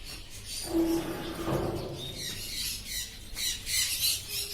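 Caged budgerigars and lovebirds at a bird market give harsh squawks and chirps amid a busy, murmuring background.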